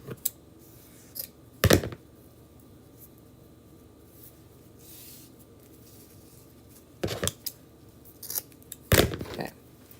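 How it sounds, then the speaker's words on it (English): Scissors snipping black tassel stripes for a gnome craft, a few crisp close cuts in separate clusters over a quiet room background. "So let's cut, we could cut like 3 black stripes."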